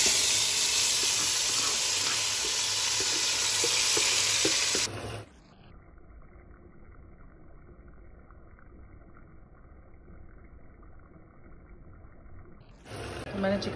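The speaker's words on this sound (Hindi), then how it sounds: "मैंने चिकन वाइट कढ़ाई आज चढ़ा दी है" Chicken white karahi sizzling and frying in a pan on a home stove, a loud steady crackle that drops away midway to a quiet hum with steady tones, then returns at the end.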